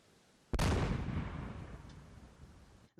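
A single heavy blast booms out after a short quiet moment as unexploded shells recovered from a pond are detonated away from a village in Cherkasy region, then a long rumbling roll fades slowly across the distance.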